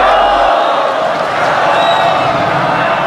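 Angry crowd invading a room at the French royal court during the Revolution, a dense, continuous roar of many agitated voices at steady high loudness, with no single words standing out.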